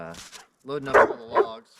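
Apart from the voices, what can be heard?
dog barking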